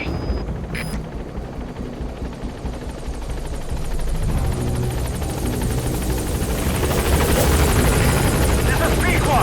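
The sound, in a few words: support helicopter arriving at landing zone, Metal Gear Solid V video game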